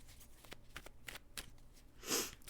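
Tarot cards are shuffled up close, a quiet run of crisp riffling flicks and slides ending in one louder brushing swoosh, with no talk.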